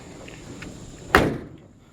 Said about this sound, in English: The doors open and close good.